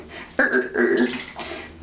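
Water splashes and drips in short bursts in a bathtub as a Jack Russell Terrier puppy's paw is wrung out after a bath, close and fairly quiet.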